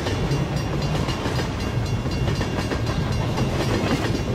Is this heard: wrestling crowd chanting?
no